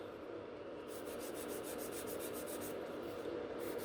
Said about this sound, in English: using the file, we are going to reshape those nails and shorten them